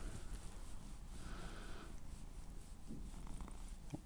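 A large tomcat purrs softly and steadily up close after a belly rub, a faint low rumble with a few sniffing sounds mixed in.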